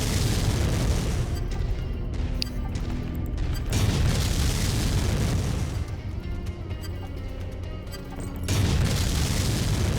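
LRM-10 missile explosions in MechWarrior 5: Mercenaries, a continuous roar of booming impacts and bursts with heavy low rumble, swelling and easing over ten seconds, with no talking.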